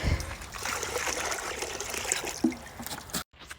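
Water trickles and splashes steadily as a duck waterer is filled on a farm, a continuous close pouring dribble that cuts off abruptly near the end.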